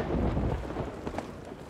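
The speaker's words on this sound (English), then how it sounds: "I know, but that storm's still there." A thunderstorm in the pirate game Sea of Thieves: a low, rolling thunder rumble with rain hiss underneath, fairly faint and brief, no voices.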